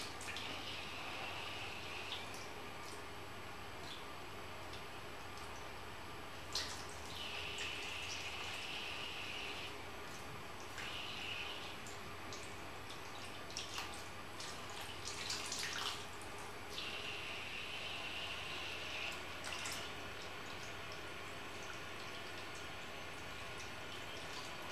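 Water running steadily from a household tap while it warms up, a soft continuous hiss with a few brief splashes and clicks, fairly quiet and close.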